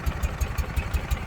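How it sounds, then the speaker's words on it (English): A 2009 Ural Gear Up Sahara limited-edition motorcycle engine idles close by, a steady low, even thumping pulse at about six beats a second with a light mechanical clatter on top. "just the way it's idling so calmly and smoothly"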